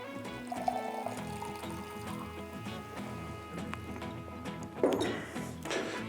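Warm water pours into a container holding about 1.5 teaspoons of sugar, a steady liquid trickle over several seconds with a louder splash near the end, set against a background music bed.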